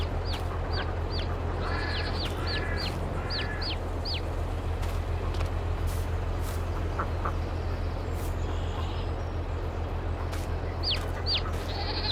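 Poultry in the farm game Farming Simulator 22, with a batch of ducks being bought: several short, bright squawks and calls in quick bursts near the start and again at the end, over a steady low ambient hum.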